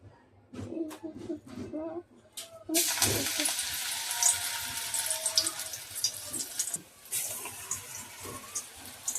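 Soya pakoras drop into hot oil in a kadai for Maharashtrian kadhi, starting with a few light clinks and handling noises before a loud, steady sizzle and crackle takes over and carries on through the rest.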